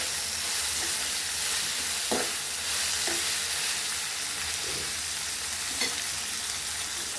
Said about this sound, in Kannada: 2 ಟೊಮೆಟೊನ ಹಾಕ್ಕೊಂಡು ಸ್ವಲ್ಪ ಟೊಮೆಟೊ ಬೇಯಲಿ